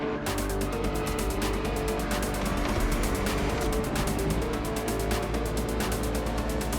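A Lamborghini Aventador races at full throttle through oncoming traffic in the video game Motorfest, its engine roaring loud and continuous with a steady high-revving drone and no breaks.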